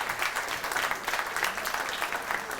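An audience applauds steadily at a 40th-anniversary event for the La Malbaie hospital foundation, dense clapping sustained throughout with no pauses, fairly close and moderately loud.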